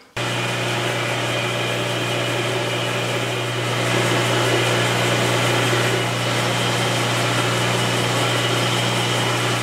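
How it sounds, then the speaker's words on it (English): A power sander grinds against a book with a loud, continuous whirring drone that starts abruptly and holds steady, rising slightly partway through, with no voices. "I'm going to go hit the sander"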